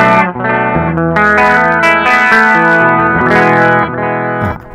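An electric guitar played through a Nux MG-400 multi-effects unit with the reverb switched off rings out as loud, sustained chords and notes with a distorted, effected tone across the whole passage, no voices.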